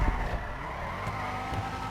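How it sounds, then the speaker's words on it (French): Car drifting in the video game GTA 5, a short burst of engine roar with tire squeal, loud and close with no talk. "Allez, on va faire un petit drift."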